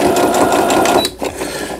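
A Riccar sewing machine stitches fabric in a loud, close mechanical whir for about a second, then stops, followed by a few light clicks.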